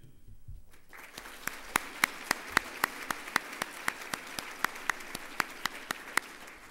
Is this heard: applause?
yes